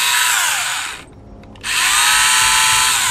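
A power drill bores into a hobby miniature model, whining loud and close in a steady run that cuts out for about half a second and then starts up again.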